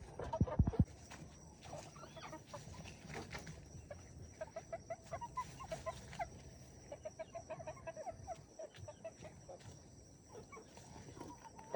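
Chickens cluck near a pond at a rural farm, with repeated short clucks in irregular bursts, moderately close, over a faint outdoor background and a loud knock near the start.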